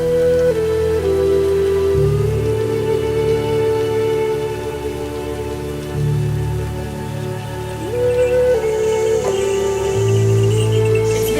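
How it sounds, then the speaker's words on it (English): Rain falls steadily in misty mountain weather on a pilgrimage trek toward Kailash, a soft continuous hiss under a droning tonal chant or music that runs throughout, with no talk. "It's been this beautiful rainy mist all day long."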